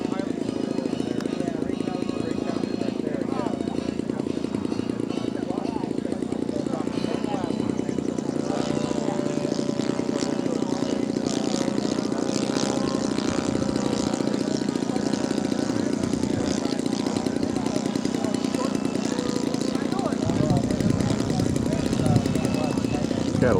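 A full-scale propeller airplane drones steadily nearby at a model aircraft flying field, its engine and propeller sound continuous throughout under people talking.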